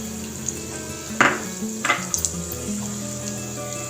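Urad dal frying in hot oil for a jackfruit curry tempering, giving a steady close sizzle with a few brief louder crackles and clinks.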